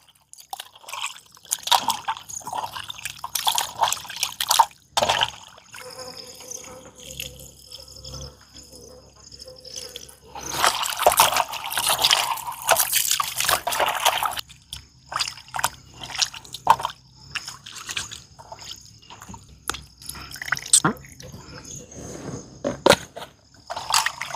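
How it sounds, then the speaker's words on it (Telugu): Raw chicken washed under running water in a home kitchen before marinating: close trickling and splashing that comes and goes, with a heavier gush of water in the middle and scattered drips and handling noises around it. "చికెన్ అయితే మంచిగా కడుక్కుందామండి ఫస్ట్."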